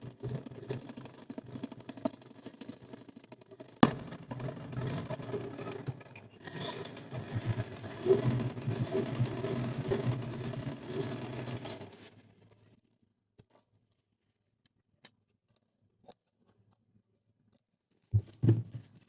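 Sewing machine stitching a fold on a cut-piece saree, a steady moderate whirr for several seconds after a sharp click, then stopping into near silence with faint clicks.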